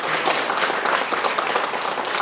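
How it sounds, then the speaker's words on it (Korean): Audience clapping loudly at a residents' briefing in a Gyeryong city hall setting as the mayor is welcomed on stage, a dense sustained burst of many hands close by, with no talking over it. "큰 박수 부탁드리겠습니다."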